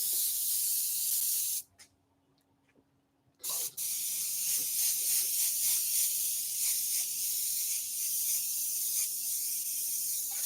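An airbrush sprays paint in a steady close hiss, broken by a short pause around two seconds before the spray resumes and continues evenly.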